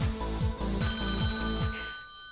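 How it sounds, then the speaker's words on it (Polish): Telephone ringing on a Polish radio quiz show, a loud electronic ring repeating in quick regular bursts about every quarter second, then cutting off near the end. "Jest telefon"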